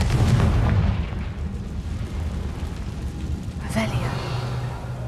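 Confringo fire spell exploding in the Hogwarts Legacy video game, with a loud burst at the start that rumbles and fades, then a second sharp crack near the end, under a voice.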